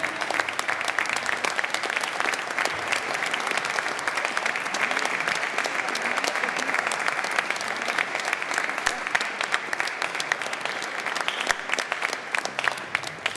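Applause fills a church during a nativity concert, a dense, sustained clatter of many hands clapping at once, loud and steady, with a faint murmur of the crowd underneath.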